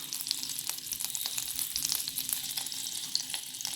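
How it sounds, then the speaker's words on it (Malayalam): Butter melting in a pan gives a steady, close sizzle and crackle with no voices, a continuous fry hiss from start to end. "ഞാനൊരു പാനിൽ ഒരു ബട്ടർ ഇട്ട് വെച്ചിട്ടുണ്ട്"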